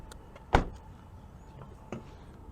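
Honda Accord Hybrid fuel filler door released from inside the car, a sharp near thunk followed a moment later by a softer second click, in a quiet cabin.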